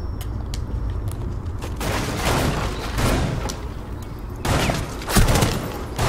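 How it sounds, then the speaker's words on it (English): Gunfire crackles from several directions in Rainbow Six Siege, dense bursts of shots and booms rolling one after another at close range, loud and nearly continuous. "they just shooting from all over"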